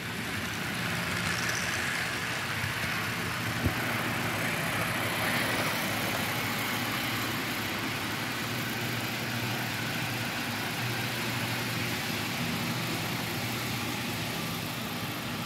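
A repaired Rivarossi Heisler model locomotive crawls slowly while pulling cars, a steady low mechanical hum and running noise continuing evenly throughout with no voices.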